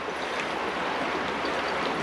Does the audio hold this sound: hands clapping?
no